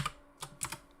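Typing on a US computer keyboard, with about four quick, close clicky keystrokes in one second in an otherwise quiet room.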